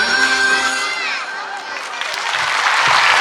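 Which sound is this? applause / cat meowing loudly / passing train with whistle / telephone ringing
applause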